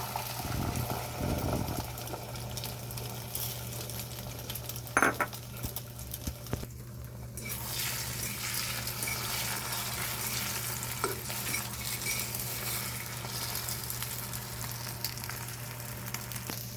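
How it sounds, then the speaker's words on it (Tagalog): An egg fries in a hot pan with continuous loud sizzling and crackling throughout, interrupted by a few close clinks and scrapes of a utensil, with no talking. "Dahil mainit na yung kawali, ilagay na natin yung itlog."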